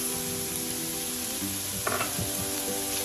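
Freshly diced raw sweet potatoes frying in a pan for black bean empanada filling, giving a dense, even close sizzle with a brief clatter of pieces and stirring scrapes near the middle.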